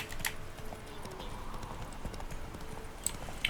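Roach the horse trotting in The Witcher 3 video game, with steady clip-clop hoofbeats at moderate loudness over soft ambient game sound.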